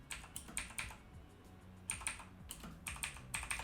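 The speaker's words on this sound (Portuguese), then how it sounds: "Eu vou digitar com a mesma fonte" Fingers type on a computer keyboard in quick bursts of clicky keystrokes separated by short pauses, close and fairly quiet, with no speech.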